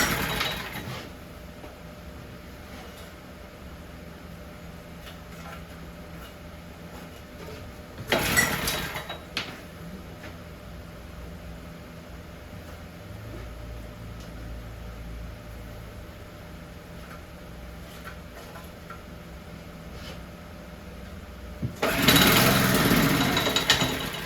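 A vintage Cunningham walk-behind tractor being started with the choke on: two loud bursts of cranking and engine noise stand out from a steady low hum, the second one longer, as the motor tries to catch.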